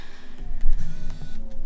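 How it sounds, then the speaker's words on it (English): A domestic sewing machine topstitching the side seam of homemade jeans runs in a quick, rhythmic mechanical patter with a low motor hum, close and clear without talk. "I'm going to top stitch the side of the jeans from where that waist is at the moment"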